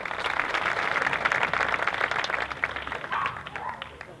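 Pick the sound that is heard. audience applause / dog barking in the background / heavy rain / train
audience applause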